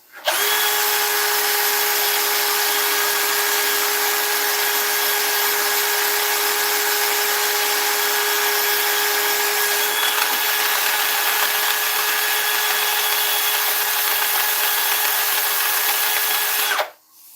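Steady whirring drone of a wood lathe spinning an oak bowl while it is sanded, loud and unbroken for the whole stretch, then cutting off abruptly.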